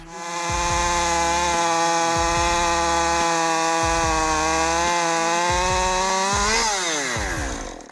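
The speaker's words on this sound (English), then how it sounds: "This is the Husqvarna 550 XP Mark II chainsaw." A Husqvarna 550 XP Mark II chainsaw cuts into a tree with a loud, sustained high-revving whine, its pitch dipping and rising under load, with a rhythmic low chopping beneath it and no talk.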